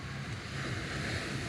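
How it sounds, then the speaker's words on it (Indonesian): Ocean surf breaking on a beach along Jalan Samudra in Padang, with wind buffeting the microphone; a steady, continuous wash of waves under gusty wind noise, fairly loud and without voices. "pantainya dengan deburan ombak, dengan hembusan angin,"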